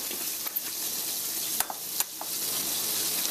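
Eggs for scrambling sizzle steadily in a frying pan on medium heat, a constant bright hiss broken by a few faint pops and clicks.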